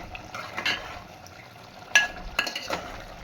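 Ginger paste stirred into chicken curry in a pan, making soft scraping and clinking utensil sounds with a gentle wet sizzle, a few sharper taps near two and two and a half seconds.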